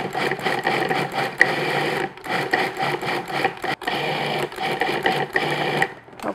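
A food processor pulsing butter into a clumping pastry dough whirs loudly and steadily up close, its motor dipping briefly between runs, with no voices.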